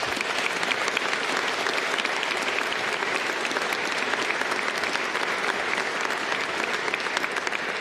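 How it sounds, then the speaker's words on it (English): Dense, sustained applause from a large audience fills a legislative chamber during a State of the State address, steady and loud throughout with no break. "I'm glad we got the clapping out of the way."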